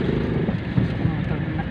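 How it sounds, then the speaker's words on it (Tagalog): A motorcycle passes on a road near a highway, its engine a steady rumble heard up close from a vehicle, with people talking over it. "O, sandali, may motor na."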